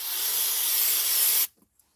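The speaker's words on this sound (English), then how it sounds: "You're gonna fold it over and spray some more on it." A spray bottle hisses cleaner onto a folded paper towel during intake manifold gasket work on a 1996-2005 GM 4.3L Chevy Astro, one long close burst that cuts off sharply, then a few small taps.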